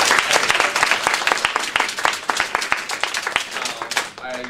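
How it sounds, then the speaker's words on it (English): Audience applause at a Toastmasters meeting: a burst of distinct, fairly close hand claps from a small room of people, dense and steady, fading out at the end as a voice begins. "give one round of applause to Laura for the first timer in table topic"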